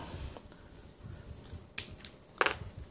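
Household scissors snip through a thin, flimsy ceiling-fan wire in two short, sharp metallic clicks close to the microphone, the second louder, against a quiet room.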